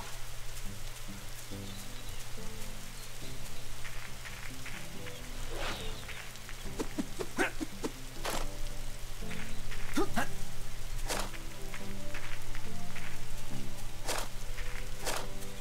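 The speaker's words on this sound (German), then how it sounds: "Und es regnet und es ist Nacht." Soft, steady rain patters at night in the video game Angeldust while light footstep-like taps and occasional sharp ticks come and go.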